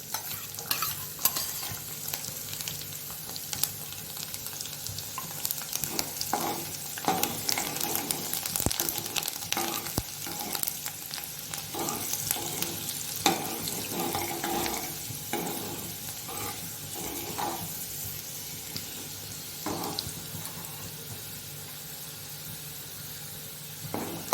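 Dry garlic and asafoetida fry in a pan with a steady, close sizzle, broken by frequent scraping and clinking as they are stirred.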